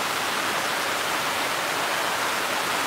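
Steady broadband rush of flood water flowing along a low-lying street on a rainy afternoon, constant and fairly loud throughout with no voices.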